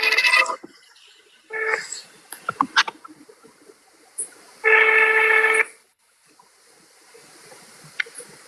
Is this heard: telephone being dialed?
yes